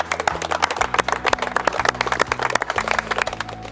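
A crowd applauds at a topping-out celebration for a new kitchen building after four weeks of construction work. The clapping is dense and steady throughout, with a faint low tonal hum underneath.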